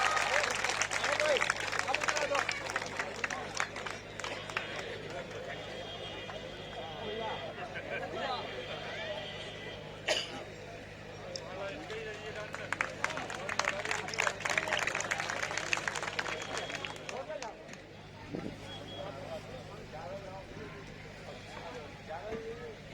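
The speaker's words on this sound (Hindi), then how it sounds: "जितने प्रांगण में बैठे हैं, जोरदार तालियों से स्वागत" A seated crowd at a Bahujan Samaj Party rally in Amroha applauds to welcome a candidate, a long sustained stretch of many hands clapping, swelling and easing in waves, with crowd chatter and an amplified voice mixed in.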